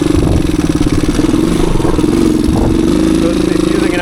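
A low-hour 1985 Suzuki DR250 single-cylinder dirt bike with an aftermarket air filter and stock airbox, its engine thumping loudly and close in a steady rapid putter with slight revving, while a person talks over it.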